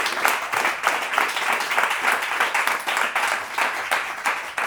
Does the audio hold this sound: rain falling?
no